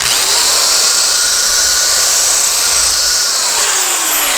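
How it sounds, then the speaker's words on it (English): A power drill whines loudly and continuously while enlarging a rivet hole at an angle on a satellite dish LNB arm, a steady high-pitched grinding whir with no pauses. "Start the drill, and then you're going to rotate it at a slight angle"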